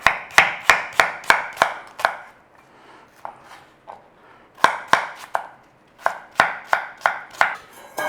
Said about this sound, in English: slice some onion, big or small as you like